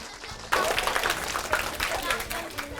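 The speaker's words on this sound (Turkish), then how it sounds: "Alkışlıyoruz Halil'i." A group of students claps for Halil during a school drama activity. A dense burst of applause starts abruptly after a quiet moment and stays steady and close.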